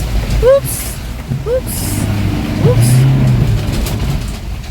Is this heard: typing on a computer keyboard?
no